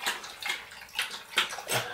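A small dog laps water from a bowl with quick, wet splashy tongue strokes in an uneven rhythm of about five laps, close and fairly loud, alone without talk.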